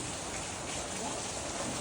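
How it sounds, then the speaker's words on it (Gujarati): Heavy, unbroken rain pours down in an early evening downpour after a hot summer afternoon, a dense, even hiss with no pauses and no other sounds standing out. "વરસાદ તો જો હજી બંધ નથી એક ધારો સતત"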